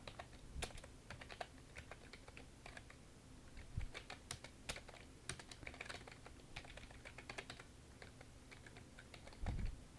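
Computer keyboard typing of English text into a PowerPoint exam exercise, with quiet irregular key clicks, a few louder taps and a soft thud near the end.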